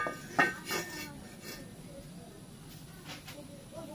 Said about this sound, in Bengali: এখানে বসিয়ে দিচ্ছি একটা লোহার তাওয়া